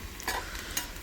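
Onion with turmeric sautéing in a pan for a Satara-style vegetable dish, a steady close hiss of frying with a couple of soft stirring scrapes over about a second.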